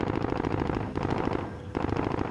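A small gun in a video game fires in rapid automatic bursts, loud and close. Two short pauses break up the rattling volleys.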